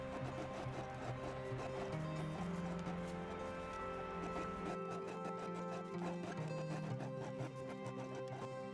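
A sewing machine stitches through a perimeter of sil poly and scrim tarp fabric, its steady mechanical whir running continuously with a slight shift in pitch midway, loud and close, with no talk.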